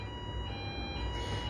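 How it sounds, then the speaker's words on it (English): A fire alarm sounds steadily and faintly in the background, a continuous tone holding through the moment without a break. "the alarms are going off at the moment. We've had all sorts of fire alarms"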